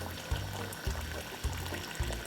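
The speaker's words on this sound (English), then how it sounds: "I'm gonna fill it up and put some more water" Water poured into a boiling pot used to steam a Christmas pudding, a close, steady gurgling pour with a few rhythmic glugs.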